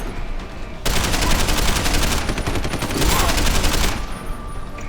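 Sustained rapid automatic gunfire in the video game Deus Ex: Human Revolution, a dense continuous burst of shots lasting about three seconds that then drops back to quieter background noise, loud and close.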